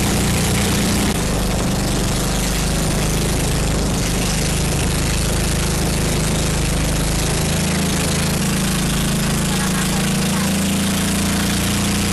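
A loud, steady motorboat engine drone with a low rumbling hum runs close by throughout, with no talking.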